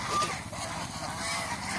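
A flock of domestic geese at a Bangladeshi farm honking together, giving a faint, continuous cluster of overlapping nasal calls.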